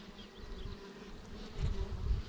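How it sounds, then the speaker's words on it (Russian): Honey bee buzzing inside a small cell in a hive during a mite inspection, a steady close drone with a thin whine, slightly louder toward the end, with no talking. "Пчела там что-то делает в мисочке."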